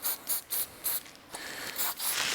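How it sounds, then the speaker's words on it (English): Silicone spray is squirted onto a rubber boot during a hydraulic handbrake install, coming as a series of short close hissing bursts with brief gaps, several quick puffs in a row and longer sprays near the end. "Put 700 silicone sprays on so I can get this boot on, hopefully"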